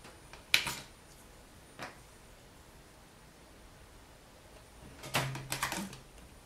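Rolled-out polymer clay being trimmed with a blade, giving a few short, faint scraping clicks near the start and a tighter cluster of quick cuts near the end, with quiet pauses between.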